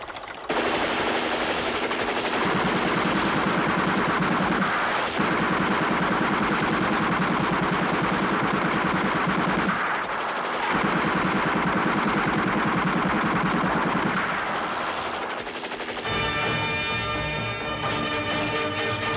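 Sustained rapid automatic gunfire in a 1989 Hindi action film, loud and close, rattling in long continuous bursts with brief pauses, ending in a more tonal ringing burst.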